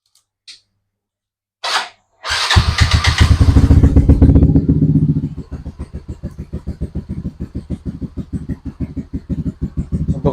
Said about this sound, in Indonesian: Nah ini akan kita cek sound nih teman-teman motornya.